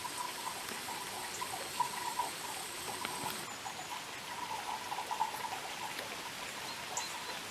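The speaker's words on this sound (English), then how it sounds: "There they are, chucking it down with rain." Heavy rain falls outside in a farmyard on a grey morning, a steady soft patter and trickle of water heard at a distance, faint and even throughout with no talk.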